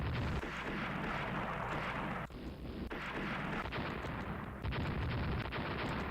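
6-inch naval guns fire during a sea battle in the warship game Rule the Waves, with heavy artillery reports layered over a constant, dense roar that shifts abruptly.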